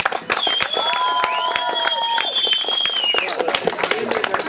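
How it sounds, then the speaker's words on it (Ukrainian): Guests clap and cheer at a Ukrainian wedding contest, a steady dense wash of applause lasting the whole stretch, with sharp hand-claps standing out and a voice or whistle-like tones rising over the crowd. "Аплодисменти!"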